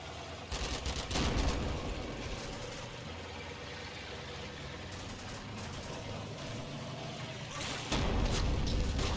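Gunfire in the tactical wargame Combat Mission rattles as steady automatic bursts over a low engine rumble, with louder clusters of shots near the start and end, moderately distant.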